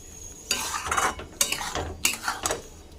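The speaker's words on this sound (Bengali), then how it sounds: "এবার মশলার সাথে মশলা কষিয়ে নেব।" Ground coriander and cumin are stirred and fried in a pan for a soybean curry: three distinct scraping passes of a utensil against the metal pan, close and clear, with no talking.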